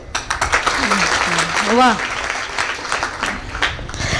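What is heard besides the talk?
audience applause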